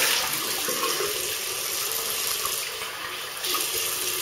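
Steady tap water running into a sink to rinse off after shaving with a Wilkinson Sword Classic razor, a constant close hiss with a slight dip near the end and no talk.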